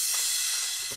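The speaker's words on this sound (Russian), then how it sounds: "здесь где-то еще был развернутый крэш" A reversed crash cymbal sample in an uplifting trance track swells as a broad, steady wash of hiss over about a second and cuts off abruptly at the end, with a ping-pong delay on it.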